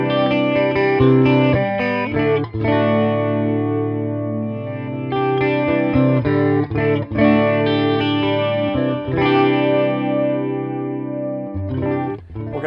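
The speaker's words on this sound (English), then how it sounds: "The clean voice. I got a little bit of chorus on it, a little bit of reverb." Charvel electric guitar played through a Boss Katana Artist Gen 3 amp on its clean voice with light chorus and reverb, miked at the grille. Sustained strummed chords and ringing notes sound loud and steady, alone with no talk.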